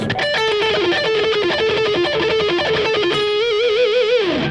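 A fast run of notes on a distorted electric guitar, played rapidly and evenly, ending in a few wavering sustained notes with vibrato.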